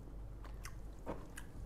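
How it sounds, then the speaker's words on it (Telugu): Someone bites and chews crunchy chicken fried biryani in an eating challenge, a few faint crisp bites and crunches at close range with no talking. "మనం ఫస్ట్ పీస్ తిందాం."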